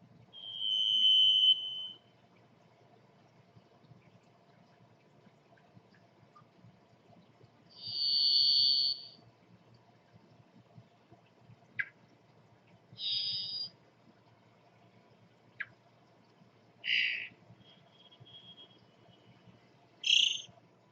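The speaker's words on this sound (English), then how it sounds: "a songbird known for its long minor key whistles" A varied thrush sings long, buzzy whistled notes one at a time, separated by long pauses, each held on a single eerie minor-key pitch over faint background hum.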